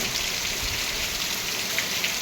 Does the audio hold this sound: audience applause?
no